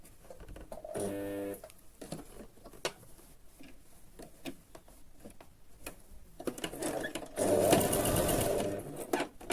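Sewing machine running in two bursts as a seam is stitched in dress fabric, a fast steady mechanical whir near and fairly loud, the second longer run louder, with quiet handling noises between.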